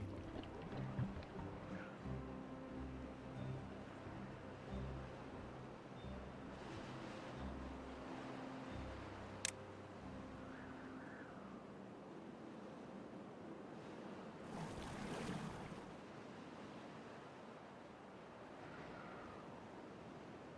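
Bad water flows in the Timberborn video game as a steady, soft rushing wash, like surf or a running stream, that continues throughout without talk.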